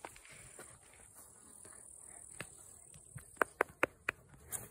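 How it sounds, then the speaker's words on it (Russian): Flies buzz around a horse in a new stable, a faint steady insect hum with a few sharp clicks or taps near the end, quiet and close with no talk. "Ой, мухи у тебя."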